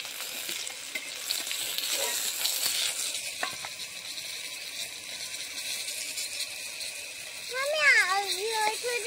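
Oil sizzles steadily as fish fry in a pan, with occasional scraping and stirring, and a voice speaks near the end.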